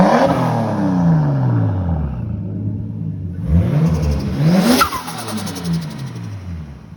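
A sports car engine revs hard several times, its pitch sweeping up and down in loud surges with a sharp climb near the end before it settles back to a steady idle, no voices over it.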